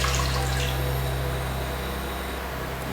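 Water poured over chilies in a pot for boiling, a loud continuous rushing pour that fills the whole moment, with a low steady hum underneath.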